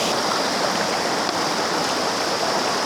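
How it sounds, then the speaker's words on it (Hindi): A mountain stream rushes loudly and steadily nearby, a dense continuous roar of running water filling the whole stretch. "यहाँ पे गदेरे का इतना ज़्यादा शोर सुनाई दे रहा है"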